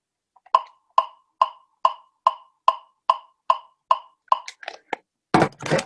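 A metronome ticking at 138 beats per minute gives about ten sharp, evenly spaced clicks close by, then a few irregular taps and a burst of broadband noise at the end.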